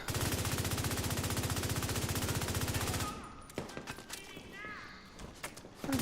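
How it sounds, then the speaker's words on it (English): Rapid automatic gunfire rattles in a steady fast stream during a shootout in The Division 2, then cuts off, leaving scattered single shots and faint game sounds. "Stop shooting at me."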